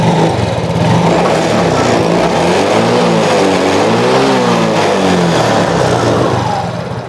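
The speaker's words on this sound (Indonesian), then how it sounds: "Oke, sekarang kita gas." A Yamaha Mio J scooter engine, serviced after a sudden breakdown, revs loudly and close up, its pitch climbing and falling through a sustained throttle blip before settling back to a steady drone.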